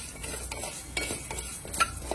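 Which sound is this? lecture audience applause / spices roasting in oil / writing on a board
spices roasting in oil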